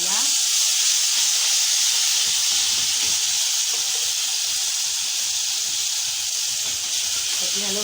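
Tomato juice hits orzo pasta frying in a pan and sets off a loud, steady steam hiss and sizzle. It starts with a sharp burst and then settles into a constant close hiss for several seconds.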